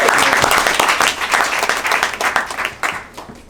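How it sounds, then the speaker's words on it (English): Steady, dense applause from a conference audience fills the whole stretch, loud and close, as a panel on education and healthcare in the DRC changes over. "All right. Round of applause for Luco real quick."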